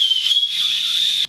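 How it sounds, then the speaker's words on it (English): A safety whistle on a Kalenji 5L hydration running backpack gives one loud, piercing, steady blast lasting about a second before stopping sharply. "There's also a whistle, which is, I think it's 110 decibels"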